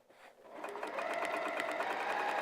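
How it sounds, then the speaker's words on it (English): A sewing machine quilting a straight line through a vinyl project bag with foam, at a 3 mm stitch length, starts up and hums at a steady, rapid pace, close and fairly quiet, with no talk. "I'm going to go over to the machine and I'm going to quilt that middle line first"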